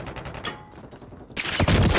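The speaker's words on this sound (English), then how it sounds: "Taking fire over here." Gunfire in the Modern Warfare 3 video game: a quiet stretch of scattered shots, then a sudden loud burst of rapid automatic fire that dominates the end.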